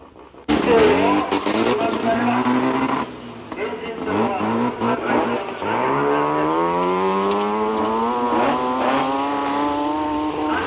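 A modified rally car from a 1980s Hokkaido dirt trial festival speeds through a high-speed corner, its engine roaring and rising in pitch as it accelerates hard. A voice talks over the loud, continuous engine note.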